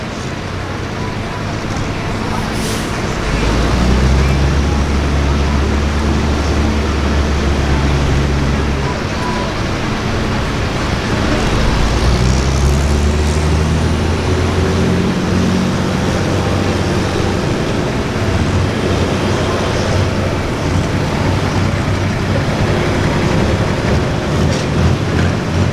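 A High Gear International farm tractor in a pro limited farm tractor pull, its engine roaring loud and continuous with a deep droning pitch that rises and shifts as it pulls, an announcer's voice faintly beneath.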